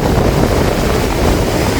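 Rough stormy sea on the Jaffna coast, with waves surging and a strong wind buffeting the microphone. The result is a loud, unbroken roar that fills the whole stretch with no voices.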